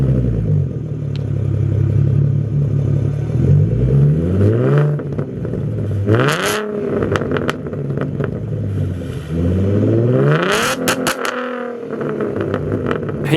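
A 2014 Ford Mustang V6 with a Magnaflow exhaust is revved repeatedly, loud and close, with deep throaty swells rising and falling between idle rumble and sharp blips.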